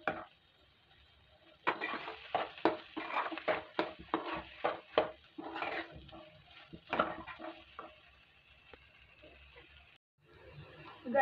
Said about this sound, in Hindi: अब इन सबको हम मिला देंगे, थोड़ा सा इसको भून लेंगे आलू को,